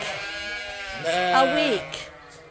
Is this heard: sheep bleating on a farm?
yes